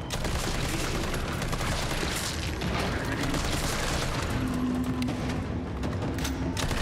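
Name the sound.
assault rifle gunfire in a video game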